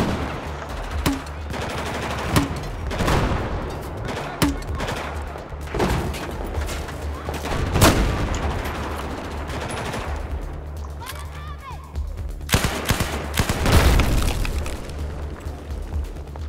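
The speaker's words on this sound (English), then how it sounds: "Who the hell is shooting at me?" Rapid bursts of gunfire from the video game Battlefield crackle throughout, dense volleys and single shots layered over a steady rumbling game soundscape, with a voice speaking briefly over the action.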